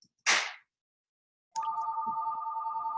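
A house phone in a parents' home rings, a steady electronic bell tone buzzing continuously after a sharp crack, loud and close with no talking.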